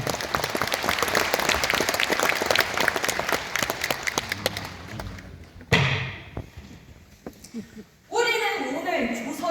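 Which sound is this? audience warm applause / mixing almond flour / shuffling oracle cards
audience warm applause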